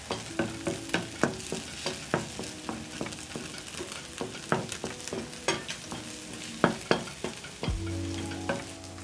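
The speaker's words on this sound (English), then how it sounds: "Add in my eggs as my potatoes cook. I am making some scrambled eggs for my side." Eggs for scrambling cook in a small pan, with a steady sizzle and repeated spatula taps and scrapes in a quick, uneven rhythm, close and moderately loud with no talking.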